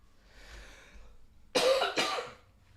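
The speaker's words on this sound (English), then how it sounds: "Sorry guys, I got a big cough." A single big, harsh cough, two quick bursts close to the microphone, after a moment of quiet breathing in a room during a live trading stream.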